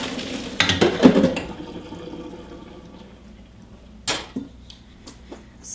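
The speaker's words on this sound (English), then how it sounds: "you strain pasta with a colander" Cooked pasta is tipped into a colander in a kitchen, making a short gushing pour of water and then trickling drips. A second brief splash follows, all fairly close.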